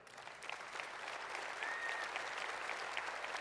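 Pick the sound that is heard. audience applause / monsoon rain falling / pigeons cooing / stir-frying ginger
audience applause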